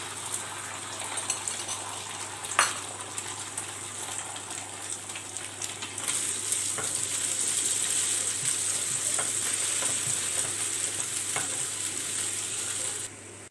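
Beaten eggs sizzle and fry in ghee in a pan, a steady crackling hiss that swells louder midway with occasional utensil taps, and no voices.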